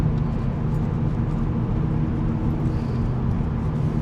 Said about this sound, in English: The car might not sound as loud, but trust me